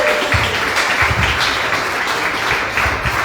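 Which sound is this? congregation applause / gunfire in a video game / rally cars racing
congregation applause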